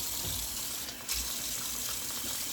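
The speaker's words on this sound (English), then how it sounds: "Let me give my hands a good wash." Hands are washed under a running kitchen tap during home Southern cooking. Water splashes and gushes steadily close by, briefly interrupted as the hands move through the stream, with no talk.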